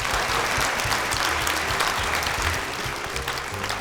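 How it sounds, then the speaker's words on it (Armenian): An audience at a Got Talent Armenia audition claps in dense, even applause that holds steady and loud from start to finish, with no voices over it. "Եկեք ծափահարենք։"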